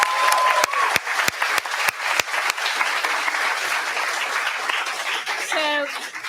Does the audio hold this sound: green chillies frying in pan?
no